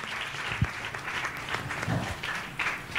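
A church congregation at a Sunday service claps in thanks, steady mid-distance applause filling the room for a few seconds with a faint voice underneath.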